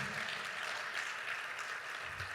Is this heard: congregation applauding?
yes